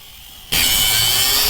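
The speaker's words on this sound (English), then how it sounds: "So I'm just going to cut the tops of these bolt hole heads off and see what we got." A power saw cuts the tops off steel bolt heads, starting abruptly after a brief quiet moment and then running as a loud, steady, continuous grinding cut through to the end.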